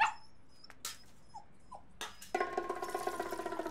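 A dog gives a few faint, short whimpers and yips amid a comedy film scene, soft and isolated at first, then followed by a rising, rhythmic noisy sound near the end.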